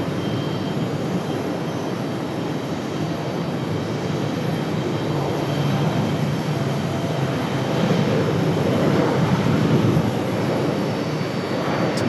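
A Republic Airways airliner arrives at Raleigh-Durham airport as a steady, loud engine roar that swells slightly toward the end, with no voices.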